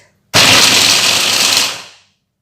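A blender blending ingredients with a little water into a paste whirs loudly and steadily for under two seconds, then winds down to silence.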